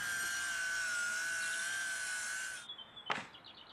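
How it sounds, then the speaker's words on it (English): A power saw makes rip cuts through old, partly rotted wooden boards, a loud steady whining cut for about two and a half seconds that stops abruptly, followed by a short sharp knock and fading rattle. "I'm making some rip cuts to get rid of any bits that show any signs of rot."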